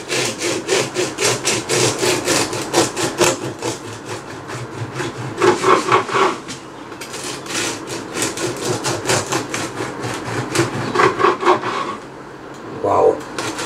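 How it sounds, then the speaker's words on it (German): A knife sawing through a crusty Thermomix whole-grain loaf, rapid repeated crunchy back-and-forth strokes in several bursts, close and loud, with brief pauses between slices. "Ich schneide mal gleich ein paar Scheiben mehr runter."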